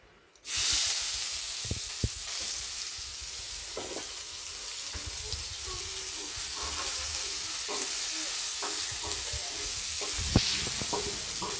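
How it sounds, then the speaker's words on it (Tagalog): Onion and garlic sauté in a hot pan for ginataang tilapia, giving a loud, steady sizzle and hiss with occasional stirring scrapes and clinks throughout, no voices. "Igisa-gisa lang po natin."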